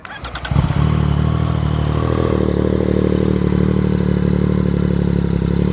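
A Triumph Street Triple 765 RX three-cylinder motorcycle cranks briefly, then fires and settles into a loud, steady, close idle.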